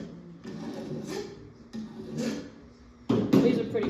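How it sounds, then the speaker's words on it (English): A hand file rasps burrs off the edge of a metal hand tool. Three scraping strokes come close and moderately loud, each a rough grinding swell, and the last stroke is the strongest. "you'd have to use the rasping part of the file. Take those burrs right off the same way you would do to sharpen it"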